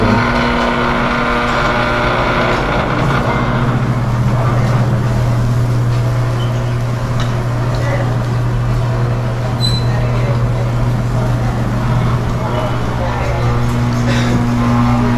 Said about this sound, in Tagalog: Ito yung nagpapaikot ng motor.